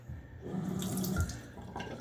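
A tap running steadily into a sink while water is added to shaving lather, a close, continuous gush with a few splashy shifts and no talking.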